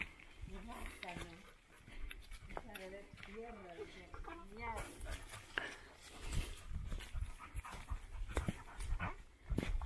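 A dog out on a trail walk, off the leash, pants close to the microphone in quick rhythmic breaths with a few whimpers, while someone talks over it and footsteps crunch along.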